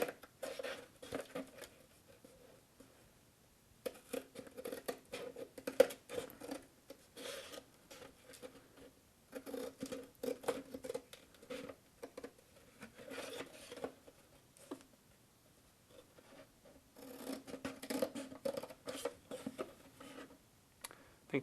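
Scissors hack through the cardboard of an 18-pack beer box to cut bendable flaps, making faint, scratchy rasping snips in irregular bursts separated by short pauses.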